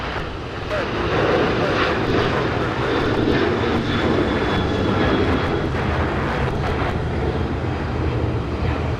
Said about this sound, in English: let's go to our next takeoff on the south side